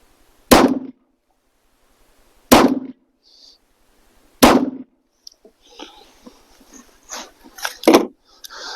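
Three frangible ammunition rounds fired from a gun, each a sharp loud crack spaced about two seconds apart, followed by scattered clatter and faint rustling.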